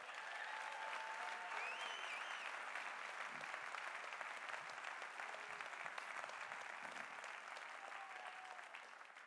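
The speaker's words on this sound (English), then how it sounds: "And tonight, I would like to give them a rousing round of applause." A crowd at an EDC staff and team celebration bursts into sustained, dense applause that stays loud and steady throughout, with scattered cheers and whistles rising above the clapping.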